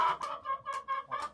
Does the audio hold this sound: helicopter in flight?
no